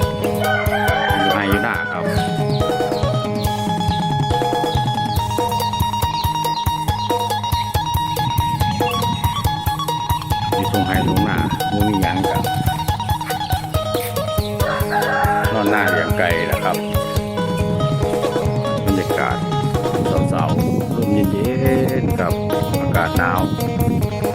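Roosters crow repeatedly over busy clucking from a flock of chickens, loud and close, with a voice briefly heard among them.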